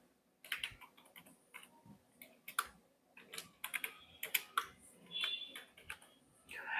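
Typing on a computer keyboard while entering a Happy New Year greeting in a design tool, a quiet, irregular run of close key clicks in short bursts with no talking.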